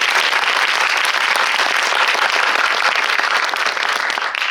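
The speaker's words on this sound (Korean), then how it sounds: "재밌게 보셨으면 큰 박수 부탁드립니다" At a Korean film screening's audience talk with the director and cast, a theater crowd gives loud, sustained applause, dense continuous clapping filling the whole stretch with no speech.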